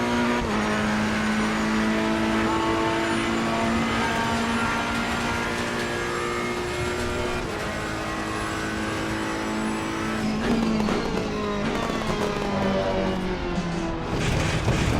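In Assetto Corsa Competizione, a Ferrari 488 Evo race car engine screams around Imola during a qualifying lap, with sustained high revs and sharp gear-change dips in pitch throughout.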